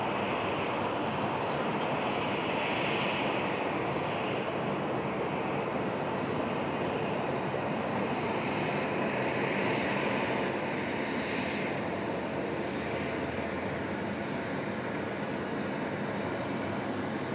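A jet airliner takes off at night from runway 16 right at Sydney Airport, its engines producing a loud, steady, broad roar that holds throughout, with no talk over it.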